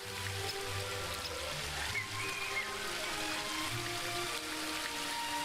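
Soft, steady flow of water from a pond and small waterfall in a fantasy adventure game, a faint continuous trickle under gentle background tones.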